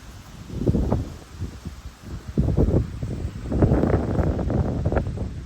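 Wind gusts buffet the microphone on the Wabash Cannonball Bridge, a loud, uneven low rumble that swells and eases in repeated bursts with no talking.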